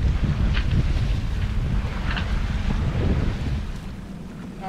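Wind rushes over a sailboat on Kentucky Lake, a loud, steady roar buffeting the microphone with faint splashing, easing off slightly toward the end.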